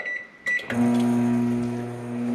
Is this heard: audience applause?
no